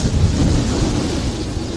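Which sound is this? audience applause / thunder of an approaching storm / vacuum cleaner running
thunder of an approaching storm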